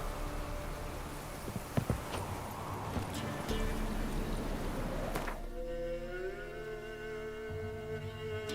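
Hoofbeats of a horse trotting in The Witcher 3 clop along in a steady rhythm over ambient game sound for about five seconds, then give way to sustained musical tones.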